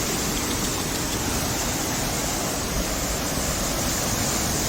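Li Phi waterfall on Don Khon in southern Laos roars in a steady, dense rush of falling water, loud and unbroken throughout with no voices.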